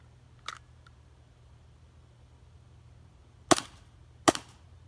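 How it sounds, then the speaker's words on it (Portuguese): An Umarex Glock 19X airsoft pistol fires two quick shots, close and sharp, one right after the other near the end, after a fainter earlier click in an otherwise quiet setting. "Mais rápido os dois disparos."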